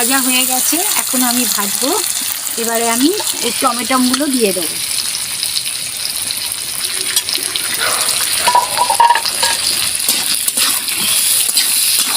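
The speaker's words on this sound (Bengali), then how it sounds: "টমটমগুলো দিয়ে আমি ভালো করে ভাজবো" Tomatoes fry in a pan with a steady close sizzle and spatter. A voice talks over the first few seconds before the frying continues alone.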